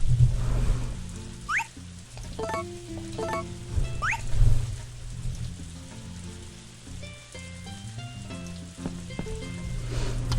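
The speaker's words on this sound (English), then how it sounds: "So I think because it's raining" Rain in Harvest Moon: A Wonderful Life patters with a soft sizzling hiss. Brief chirps and melodic game tones sit over it at moderate volume.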